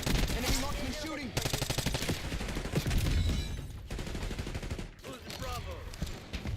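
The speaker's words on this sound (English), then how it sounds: "Enemy marksman shooting." Rapid bursts of enemy marksman rifle fire in Black Ops 6 on the Nuketown map, dense and loud with short gaps, mixed with game sound effects and clipped radio-style voice callouts.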